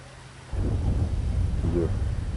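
Thunder from a thunderstorm in GTA Online: a low, steady rumble that starts abruptly and rolls on at a fairly loud level, with a couple of softer swells over windy noise.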